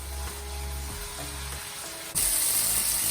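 Sauce simmering and reducing in a pan, sizzling softly at first, then jumping abruptly to a louder, brighter steady hiss for the last second.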